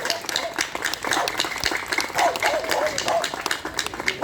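Crowd applause at a pet festival showcase of Macedonian dog breeds: dense, steady clapping from many hands filling the whole stretch, with some voices mixed in.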